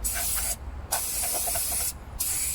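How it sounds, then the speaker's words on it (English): Silicone spray aerosol sprayed onto a drainage pipe fitting, heard as two loud, close hissing bursts separated by a brief pause, with a third burst starting at the end. "Right, so yeah, I use some silicone spray"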